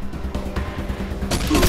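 A sniper rifle fires in the video game Wasteland 2, with several sharp cracks and booms in quick succession followed by a louder burst near the end.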